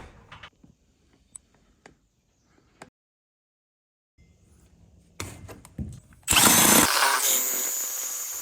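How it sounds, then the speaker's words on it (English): A power drill bores holes through a wooden bottom floor plate in an A-frame build, quiet clatter giving way to a loud, sustained whirring burst near the end. "I drilled holes in my bottom floor plate to run those connections to the outside condensers"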